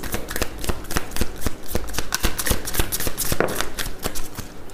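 A deck of tarot cards is shuffled in a rapid, close run of crisp riffling flicks and taps, with cards slid and drawn from the pack.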